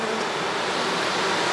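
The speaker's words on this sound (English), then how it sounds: "those bees are scenting, and they found their way home." Honey bees scenting at the entrance of a condensing polyhive during a spring inspection, a steady dense buzzing hum that fills the whole stretch evenly and close by, with no voices over it.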